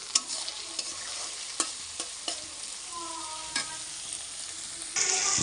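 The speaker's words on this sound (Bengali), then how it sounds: "পেঁয়াজটা আমার ভাজা হয়ে গেছে" Onions fry in hot oil with a pinch of salt, a continuous close sizzle punctuated by regular scraping and clinking of a spatula stirring the pan.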